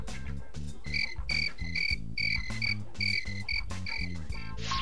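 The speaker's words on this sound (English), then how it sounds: "I actually added in the crickets." Steady, loud cricket-like chirping added as an edited sound effect repeats in even pulses alongside a low rhythmic musical backing.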